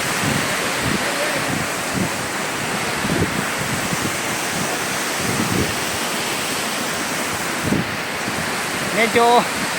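Steady roaring rush of a waterfall in Riyadh, Saudi Arabia splashes continuously, close and loud, with a few faint voices barely audible underneath.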